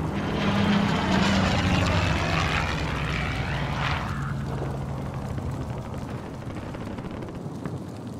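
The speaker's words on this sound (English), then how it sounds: "Allied precision airstrike incoming." A video-game allied precision airstrike in Caldera Clash: a loud propeller aircraft roars overhead in a thick, sustained drone. The roar swells toward a peak near the middle, then thins and fades steadily into a lingering rumble.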